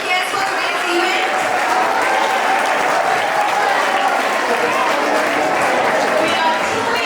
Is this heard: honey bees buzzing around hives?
no